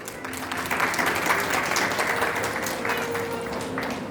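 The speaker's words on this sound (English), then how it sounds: "Big round of applause for my Tagoreans." An audience claps steadily for students at a school children's fashion show, a dense, sustained round of applause with crowd murmur throughout.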